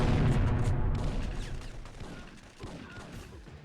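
Grenade explosion in the stealth-action game Syphon Filter, a loud low boom at the start that rumbles and fades, followed by scattered smaller crackles and thuds, no talking.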